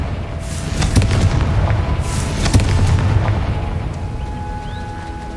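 Confringo fire spell explosions in Hogwarts Legacy, a series of loud, deep booming blasts with sharp cracks, several impacts spaced about a second apart over a rumbling background.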